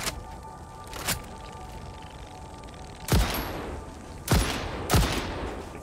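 Gunfire in the video game Satisfactory: four sharp, loud shots, one alone and then three more spaced about a second apart, each with a short echoing tail over a low steady background hum, with no talking.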